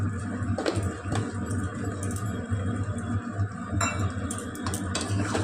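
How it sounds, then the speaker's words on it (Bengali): Navratan curry is stirred in a pan after sugar is added, with scraping and clinking of a spoon against the pan in irregular strokes and a few sharper knocks, close by and without talk. "এবারে সব একসঙ্গে নাড়িয়ে নিচ্ছি, মিশিয়ে নিচ্ছি।"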